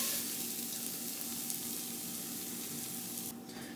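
Onions sizzling as they fry in a pan, a steady close hiss and crackle that continues without a break and fades slightly near the end.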